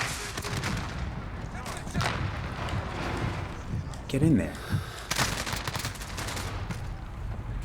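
Gunfire in a shooter video game, a few scattered shots over continuous game noise, with someone speaking briefly.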